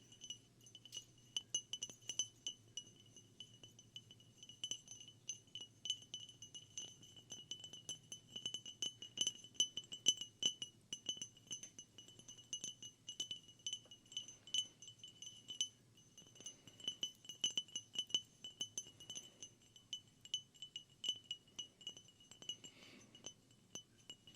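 Tapping on a glass jar in a quiet room, a steady run of close, bright clinks and taps that quicken and cluster at times, with no voice over them.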